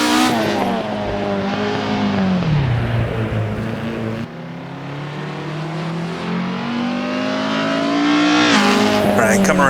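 A Formula 1 car in Assetto Corsa on the old Pescara road circuit brakes hard and drops down through the gears to first, engine pitch sweeping down then climbing again as it slides out of the corner, loud and close.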